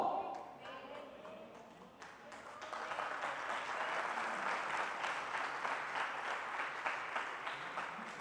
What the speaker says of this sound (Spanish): estoy contento que le sacaron ese aplauso a la fuerza